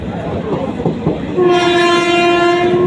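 A train pulls into Sattur station on the Karur to Tirunelveli route, its close, loud wheels clattering over rail joints before a sustained horn blast sounds and holds to the end.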